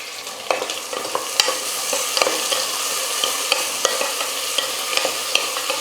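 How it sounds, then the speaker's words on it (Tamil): Onions and green chillies fry in oil in a pan, making a loud, continuous sizzle broken by frequent scraping stir strokes and clinks of a spoon. "வெங்காயம் ஒரு 2 நிமிஷம் நல்லா வதங்கட்டும்."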